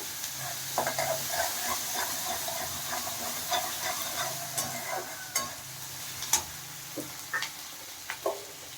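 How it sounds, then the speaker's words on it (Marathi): Whole spices and tomato frying in a pan for palak pulao, a soft hissing sizzle underneath repeated spoon stirs and light clicks against the pot, close and fairly quiet with no talking. "आता हे सगळं भाजून घेऊया छानपैकी."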